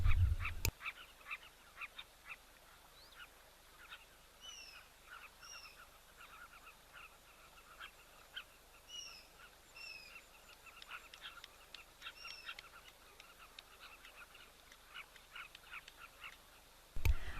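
Geese and ducks honk and call repeatedly at a wildlife waterhole, a busy outdoor chorus of overlapping bird voices against steady background ambience, with a few louder bumps at the start and end.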